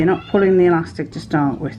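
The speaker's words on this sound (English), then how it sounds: "Now excuse the cat because she thinks it's 4:30 and dinner time" A hungry house cat meows insistently for dinner, three drawn-out cries in a row close to the microphone while someone speaks over them.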